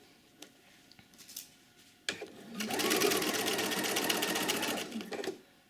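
A sewing machine stitches a single welt pocket on a coat, first a few soft clicks and handling noises, then a loud, steady close whir for about three seconds before it slows and stops.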